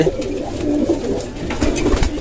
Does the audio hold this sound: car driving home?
no